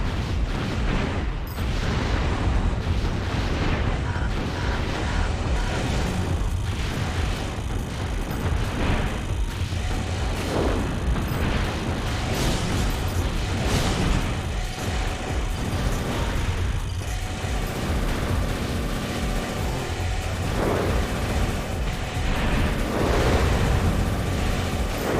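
Continuous heavy rumble of rocket blasts and explosions in Armored Core 3 mech combat, dense booming impacts layered over mechanical noise throughout, loud and unbroken.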